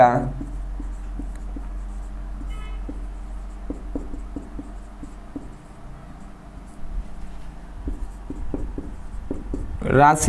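Pen strokes scratch steadily across paper as a physics definition is written out, with short rhythmic ticks and scrapes continuing for about ten seconds. A voice is faintly present underneath.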